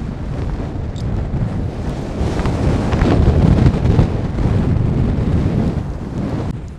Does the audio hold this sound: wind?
yes